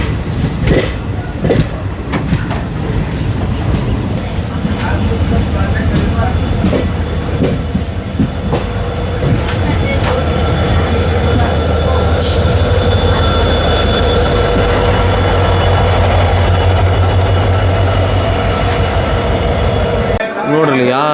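Overnight train on the Hubli to Chennai run, loud and close from inside, with a continuous rumbling roll, rhythmic wheel clatter and occasional squeals, a low steady hum underneath and faint voices in the carriage.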